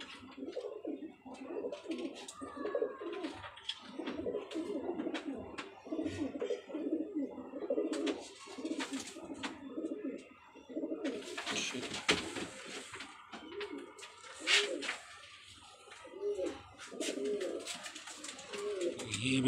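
Golden teddy pigeons coo repeatedly nearby in soft throaty bursts, with several birds overlapping amid chirps and rustling, while people talk now and then in the background.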